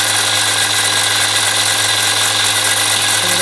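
A bench grinder runs steadily while sharpening a drill bit, a loud continuous whirring hum with a high hiss, unbroken throughout and with no talking.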